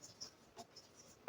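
Faint scratching strokes of a pen or pencil writing numbers by hand on paper, a few short light scrapes close by, with no voice over them.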